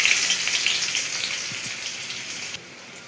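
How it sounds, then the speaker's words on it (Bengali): Chopped onion hits hot ghee with cumin seeds for tarka dal, a loud, close, hissing sizzle that fades somewhat and drops abruptly near the end. "এরপর কড়াইয়ের মধ্যে ঘি গরম করে জিরে ফোড়নে দিয়ে"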